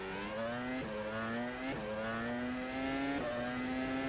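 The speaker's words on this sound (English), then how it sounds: "I got quite flat spotted tires." A video game race car engine, a Formula Pro car in rFactor 2, drones steadily with rising pitch, punctuated by periodic rhythmic thumps from flat-spotted tires rolling, continuous and close.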